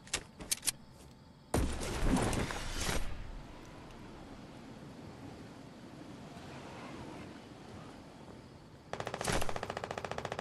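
Gunfire in the Fortnite video game, with sharp bursts near the start, a dense loud volley in the middle, and a rapid repeating burst at the end over a low ambient bed.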